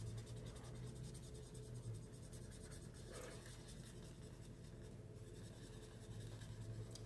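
A colored pencil is worked back and forth on smooth cardstock, blending layers with the lightest color, giving a soft, continuous scratchy rasp of rapid strokes, close and faint, with no voices.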